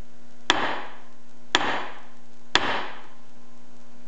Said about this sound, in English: I'm going to whack it with a ball peen hammer and see what happens.